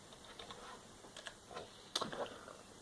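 Quiet, sparse clicks of keys on a computer keyboard as a short command is typed, with a few soft taps and one slightly firmer keystroke near the end over faint background hiss.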